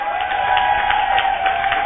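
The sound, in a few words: congregation applauding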